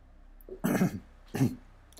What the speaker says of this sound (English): I really shouldn't cough so much on stream